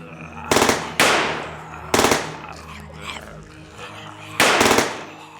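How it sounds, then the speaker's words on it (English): Gunfire crackles in several loud, sharp bursts spaced about a second apart, with ringing tails between volleys and a quieter shot in the middle. "All right, stop shooting."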